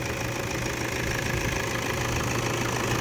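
A Toyota Hilux Vigo Double Cab Prerunner pickup's engine idles steadily, producing a constant low rumble with a fine, even mechanical knock, close and alone, with no talk.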